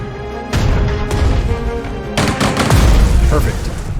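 Mortar and gunfire in the WWII strategy video game Strategic Mind: Blitzkrieg, loud bursts of rapid shots and booming impacts in quick succession, close and dense.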